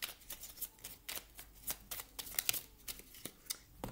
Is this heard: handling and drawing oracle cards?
yes